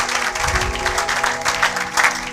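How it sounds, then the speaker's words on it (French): A church congregation applauding together, dense continuous clapping filling the room at a steady, lively level. "Acclamons pour la gloire de notre Dieu"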